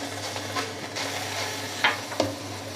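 Fried onions being stirred in a pan with soy sauce and chili powder, a steady soft scraping and stirring over a low sizzle, with two sharper utensil knocks near the end.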